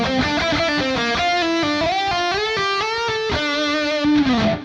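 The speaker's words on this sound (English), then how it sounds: "Section number 2 is this quick walk up the neck through the scale." Distorted electric guitar runs through a quick scale walk up the neck, each note picked with a firm downstroke, the steady stepwise notes climbing before a held note, loud and close with no talk.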